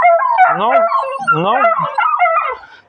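A dog howls loudly and close by in long wavering, rising and falling cries that fade at the end, with a brief bit of speech mixed in.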